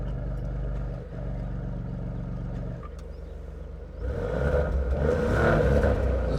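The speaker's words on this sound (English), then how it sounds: "let's check out the exhaust note of this GranTurismo Trofeo" A Maserati GranTurismo Trofeo engine idles with a deep, rumbling exhaust, then revs up sharply into a louder, rougher roar toward the end.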